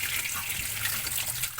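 Raw chicken is washed under running water, a steady close gush and splash of tap water with a faint handling rustle.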